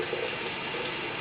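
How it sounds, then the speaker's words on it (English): Tap water runs steadily to rinse a turtle with shell rot. A constant, fairly soft broadband splash and gush continues alone for the whole stretch. "Rinse off your turtle. Make sure the water's not too hot."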